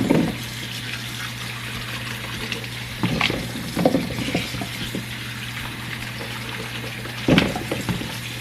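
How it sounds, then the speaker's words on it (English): Potatoes being washed under a running kitchen tap, a steady rush of water with a low hum beneath, broken by a few louder splashes and clunks as the potatoes are handled. "Wash these potatoes."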